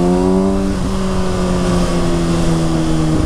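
Exhaust of a 2019 Kawasaki ZX6R motorcycle, loud and close, with engine tones that drop in steps as the rider downshifts. Faint crackles ride under the steady drone, and nobody speaks.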